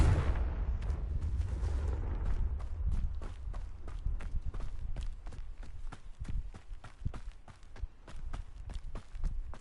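Hogwarts Legacy spell combat with the Confringo blasting spell: a burst of rumbling blasts at the start, then a rapid run of sharp, percussive impacts crackling steadily onward.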